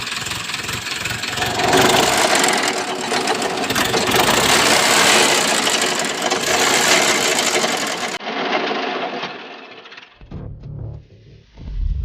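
A tractor engine runs hard pulling a rotavator through a field, a loud rough mechanical drone with clattering for several seconds before it drops to a quieter idle and fades.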